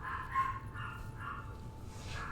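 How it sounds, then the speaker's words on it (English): Dogs bark in the background somewhere off in the distance, faint and intermittent over a low steady hum of room noise. "I apologize for the dogs in the background."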